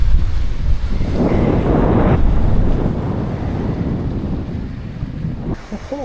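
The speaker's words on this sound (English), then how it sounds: "It's a bit windy up here." Strong wind buffets the microphone at the top of a lighthouse in Finland, a loud, steady roaring rush that swells in the first two seconds and then eases slightly, with no talking.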